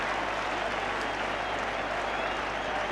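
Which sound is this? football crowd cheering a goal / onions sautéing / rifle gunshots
football crowd cheering a goal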